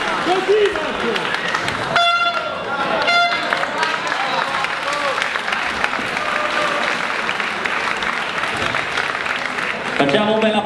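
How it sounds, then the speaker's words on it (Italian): Crowd applause for the athletes at a fight event between rounds, sustained clapping mixed with noisy arena chatter, with short horn-like toots sounding at the start and end. "Facciamo un bel applauso agli atleti, l'ultimo round"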